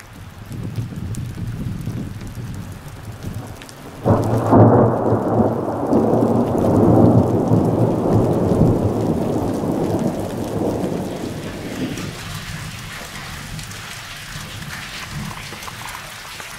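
A loud thunderclap breaks over steady, heavy rainfall during a mountain thunderstorm in the Authion massif, its rumble rolling on for several seconds before fading back into the rain.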